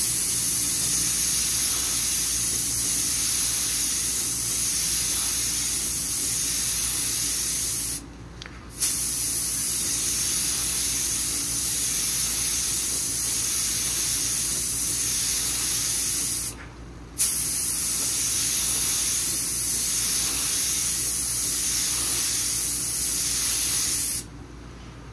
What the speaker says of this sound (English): I'm spraying this at 14 psi, and I'm only like a quarter of a turn out